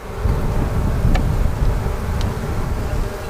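Honey bees swarm around an open Langstroth hive during a spring inspection, a dense steady buzzing close by with a few individual bees whining past.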